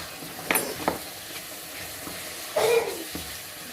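Fried bakes cook in a pan of hot oil as oil is gently spooned over them, a soft steady sizzle broken by a few sharp spoon clinks and brief louder hissing bursts, no voices.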